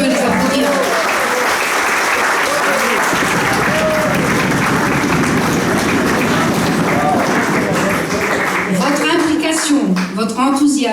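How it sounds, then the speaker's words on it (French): A large crowd applauds continuously and loudly at a Rotary club presidency handover, dense clapping that holds for around ten seconds, with voices calling out and talking within it toward the end. "Et on peut les applaudir."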